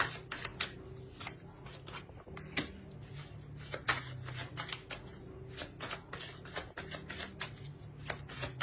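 Tarot cards being shuffled and drawn, a close, continuous riffle of quick flicking snaps that keeps going, with no talk.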